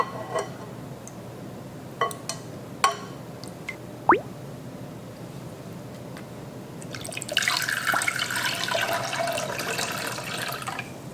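A few light drips and plops, then a steady stream of water pouring into a bowl of beef to soak out the blood, close and moderately loud, with no one talking.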